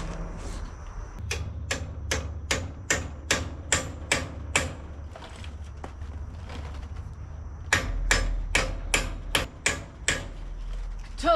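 Sharp metallic hammer blows ring out while a drop axle is aligned on a roadster pickup hot rod, coming in two steady runs of evenly spaced strikes with a brief pause between, close and loud in a quiet garage.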